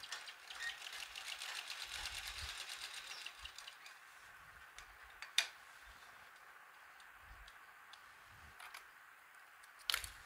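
A sewing machine stitching a box-shaped roti cover runs quietly nearby, a faint rapid ticking whir in short bursts with a couple of sharp clicks.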